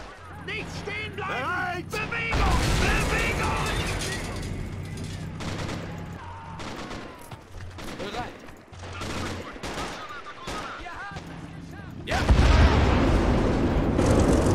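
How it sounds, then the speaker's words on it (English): A T-34-85 tank blowing up in a tank video game, heavy booming blasts with gunfire-like crackle spread across the clip, a sharp loud burst near the end, under constant game noise and voice chatter. "That means the T-34-85 went up, and the explosion was so heavy that it actually killed the Su-76 next to it."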